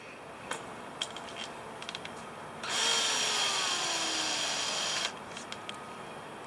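A power drill runs in one steady high whine for about two seconds, with scattered light clicks and handling noises before and after it in a quiet workshop.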